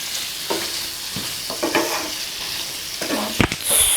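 Mutton fry sizzles steadily in a hot pan while a spoon scrapes and stirs it, close and fairly loud, with a few distinct scraping strokes over the constant frying hiss.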